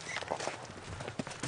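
Hooves of pack donkeys carrying flour clop on a mountain road in Tajikistan, a few faint, uneven steps against soft background noise.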